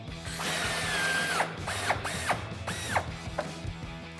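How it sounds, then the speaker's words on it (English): A hand ratchet fitted with a 15 mm socket works a bumper support bolt loose on a 2007-2013 Chevrolet Silverado 1500. The close, dry clicking comes in short bursts, mixed with a few squeaky scraping sweeps. "We're going to use a 15 millimeter socket, and you may want a small extension as well as a ratchet to get this out."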